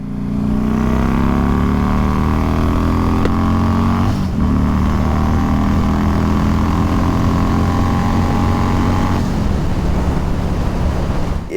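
V8-powered motorcycle engine drones loud and steady while riding, a deep continuous roar with rising harmonic tones as it accelerates and heavy wind rush throughout.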